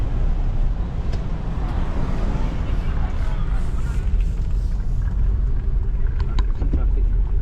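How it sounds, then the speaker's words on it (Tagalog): Street traffic on Second Street in Bacolod, a steady low rumble of passing cars with continuous engine and road noise throughout, fairly loud and close, with no clear breaks. "Traffic."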